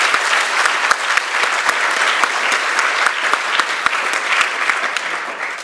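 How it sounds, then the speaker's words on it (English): An audience at a university bachelor's graduation ceremony applauds loudly and continuously, dense clapping with sharp individual claps standing out close by. "And now you may applaud as well."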